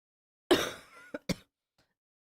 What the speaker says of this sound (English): my coughs keep interrupting me